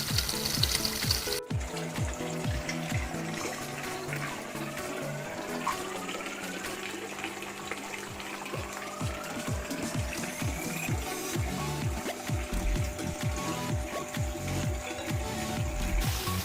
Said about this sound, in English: Now I will connect this tap to the pond.